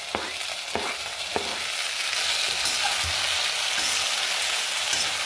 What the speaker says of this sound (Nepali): कडी पत्ता राख्दैछु मैले